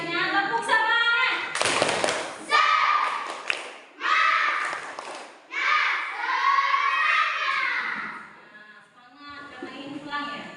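A class of schoolchildren performs a rhythmic clapping chant together, mixing bursts of sharp hand claps with loud shouted group voices. The sound is close and lively, with the claps and chanting alternating in short surges.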